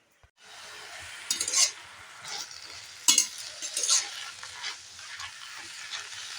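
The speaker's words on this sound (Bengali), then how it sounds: "শাকটা এইভাবে আমি নেড়ে নিচ্ছি নেড়ে নিলে শাকটা কমে যাচ্ছে" Fresh bottle gourd greens stirred in a pan, with a few sharp scraping bursts of spatula against metal over a soft, steady sizzle, close up and with no talking.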